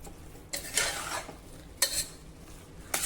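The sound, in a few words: sautéing chickpeas and rice in spices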